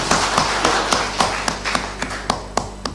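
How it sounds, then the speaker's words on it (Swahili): Audience at a Sacco cooperative gathering clapping hands: scattered, sharp claps spaced irregularly over a few seconds, fairly close, with no voices. "Jipigieni makofi."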